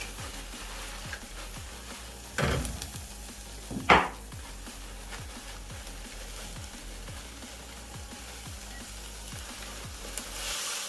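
Sukuma kale greens sizzle softly in a hot pan, a steady quiet frying hiss with a couple of louder clatters of utensils stirring near the start.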